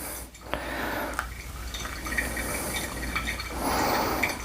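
Hot water streams steadily from a kettle over ground Rwandan coffee in a V60 pour-over brewer, a soft continuous trickle with faint splashing throughout, quiet and close with no talking.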